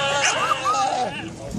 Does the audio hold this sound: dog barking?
yes